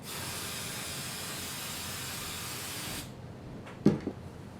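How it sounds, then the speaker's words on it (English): Hairspray sprayed onto a styled competition hairdo: a long, steady close hiss for about three seconds, then silence broken by a brief soft clatter. "you're going to need to spray whatever design you're doing with your extra hair."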